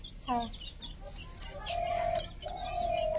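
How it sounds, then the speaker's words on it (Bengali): A pet white egret named Nargis gives soft tonal cooing calls, a short one early and then longer drawn-out notes, close by with a person talking around them. "খুবই সুন্দর করে গুগু রাখতেছে"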